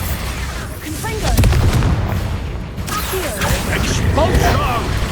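Expulso and Confringo spells in Hogwarts Legacy set off booming, rumbling blasts with crackling debris, heavy and continuous up close, while a voice repeatedly shouts incantations over the explosions.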